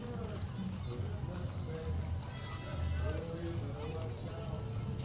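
Paint and palomino horses with riders walk along a concrete street in a Christmas parade, their hooves clip-clopping steadily beneath nearby chatter and general crowd noise.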